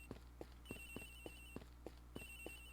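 A cell phone rings inside the Ace Attorney Investigations game aboard a plane, a thin, high electronic trill in repeated bursts over a steady, regular ticking pulse, all fairly faint.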